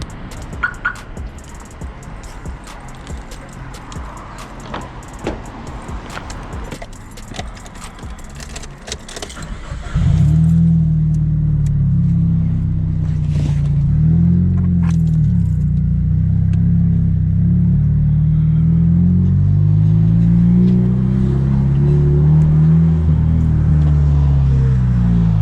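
Straight-piped Nissan S15 starting up and driving: light rustling and handling noises give way to a loud, raw exhaust drone that rises and falls with revs, close and continuous.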